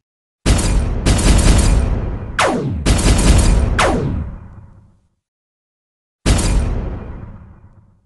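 Gunfire sound effects in a Lego animation, several loud booming blasts with sweeping swooshes, clustered in quick succession, then a pause and one more blast, with no talk.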